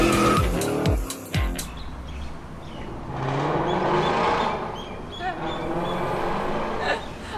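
An Aston Martin car squeals its tires through a skid after several sharp knocks, then its engine revs and pulls away at moderate loudness, with no speech.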